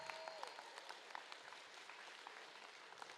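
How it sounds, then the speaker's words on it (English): An indoor crowd at a league tournament applauds the competing teams, a faint, steady wash of clapping throughout these few seconds. "Let's have a round of applause for all of the teams that competed here today."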